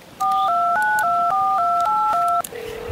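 A phone number is dialed on a telephone keypad, giving about nine crisp touch-tone beeps in quick, even succession, followed by a steady lower tone.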